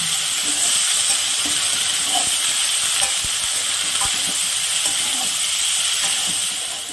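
Chopped onions frying lightly in a pan give a steady, close broadband sizzle, with faint crackles and occasional soft stirring scrapes throughout, no voices.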